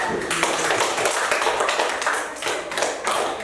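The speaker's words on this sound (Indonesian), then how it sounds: "Tepuk tangan untuk kelas 4." Students of a fourth-grade class clap at the end of a school lesson, an uneven patter of close, sharp hand claps from a small group, loud and busy throughout.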